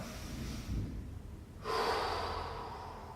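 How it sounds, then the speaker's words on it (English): One person breathes in, then gives a long, steady exhalation through pursed lips, as if blowing through a straw, during a breathing exercise. The breath is close and soft, with a faint airy hiss and no talking. "Blowing out as if you're blowing through a straw."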